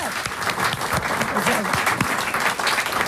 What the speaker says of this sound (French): On applaudit, on remercie Sergio